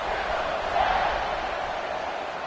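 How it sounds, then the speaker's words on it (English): A college football stadium crowd buzzes with a steady, dense roar after a score, a broad sustained wash of voices with a small swell near the middle and no single voice standing out. "this crowd is buzzing after that last score"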